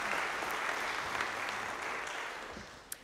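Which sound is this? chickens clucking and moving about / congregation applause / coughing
congregation applause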